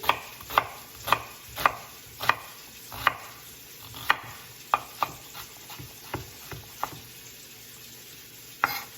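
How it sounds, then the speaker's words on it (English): A knife chops vegetables into chunky pieces for a keto chicken stew. Steady, evenly spaced strikes on a cutting board are heard close up, about fifteen crisp chops with no talking. "we're not gonna chop these fine at all. They're gonna be a bit chunky."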